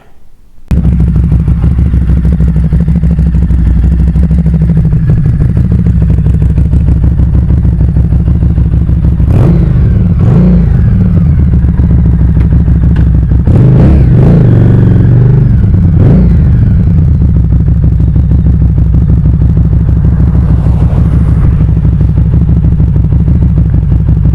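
A repaired, previously vandalized Harley-Davidson Street 500 XG motorcycle being ridden: a loud, close, continuous engine rumble with a low throb, swelling in a few revving surges midway, and no talking.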